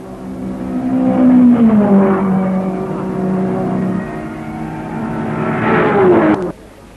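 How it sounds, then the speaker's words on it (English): Race car engines snarl loudly and continuously at the 1961 24 Hours of Le Mans, pitch shifting as they rev and pass, then cut off abruptly near the end. "the snarling exhausts sound a triumphant reveille"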